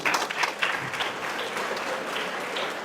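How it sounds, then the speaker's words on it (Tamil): An audience claps steadily at a Zero Accident Day event, with dense, continuous applause at a fairly even level and no talk over it. "கைத்தட்டுங்க."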